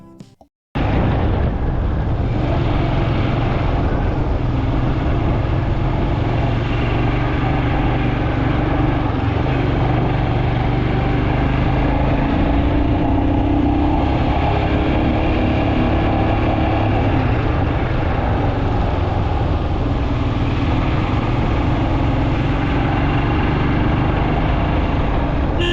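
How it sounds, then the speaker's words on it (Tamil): A Royal Enfield Himalayan 411 motorcycle engine thrums steadily while riding to Vagamon in fog and rain, a continuous loud, close drone with wind and road rush and no voices. "பேக்ரவுண்ட் மியூசிக்கை கட் பண்ணிட்டு ஃபுட்டேஜில் ரெக்கார்ட் பண்ண பைக்கோட ஆக்சுவல் சவுண்டை வந்து போட்டு காமிக்கிறேன்"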